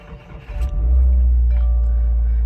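A 2016 Subaru WRX starts with the clutch pressed and the push button: a brief starter whir, then the engine catches and settles into a loud, steady, close-up idle rumble.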